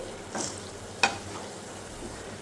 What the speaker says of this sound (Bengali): ভেজে রাখা ডিমগুলো দিয়ে একটু নাড়িয়ে